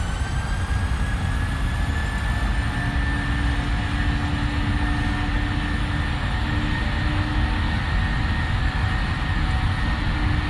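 Jet engines spool at takeoff thrust in a PMDG 737 flight simulator, a loud, steady, broadband roar with a faint high whine running through it, unbroken for the whole stretch.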